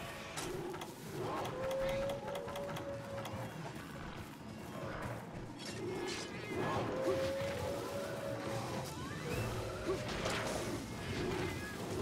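Cats meow repeatedly in Monster Hunter 3 Ultimate, with drawn-out tonal calls at intervals over busy game sounds and thumps, moderately loud.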